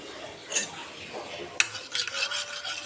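Onion juice and ginger juice being stirred together in a bowl, giving soft rasping, rubbing strokes with a sharp utensil clink partway through, close and fairly quiet.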